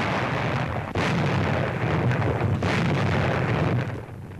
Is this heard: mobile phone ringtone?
no